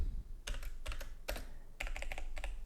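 Keys clack on a computer keyboard in several quick bursts of close, crisp taps separated by short pauses, over a low background hum and with no voices.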